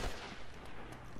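Gunfire in the video game Uncharted 1 cracks out in a short, quiet burst of shots with a noisy, low-level game background.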